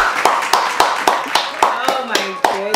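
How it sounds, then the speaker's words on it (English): Clapping for an interview guest, sharp distinct claps in a steady rhythm about every quarter second, close and loud, with a voice talking over them. "Let them clap for you,"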